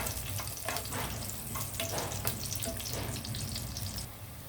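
Chana dal fries in a pan with a steady, moderate sizzle and a few faint stirring sounds. No one speaks.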